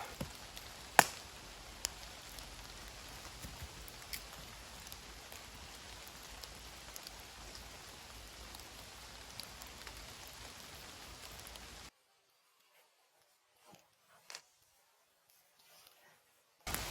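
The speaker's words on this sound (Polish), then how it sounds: "Deszcz wokół szumi, pada, mnie tu chronią troszkę korony drzew" Rain falls in an autumn forest beneath the tree canopy, a steady close hiss that runs for about twelve seconds and then cuts to near silence with only a few faint sounds.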